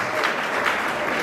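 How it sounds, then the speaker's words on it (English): Audience clapping at a gathering, a brief, dense burst of applause at moderate level with a faint murmur of voices underneath. "Can we clap for Mulonga?"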